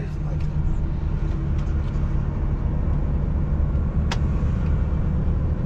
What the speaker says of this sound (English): My company lorry coming.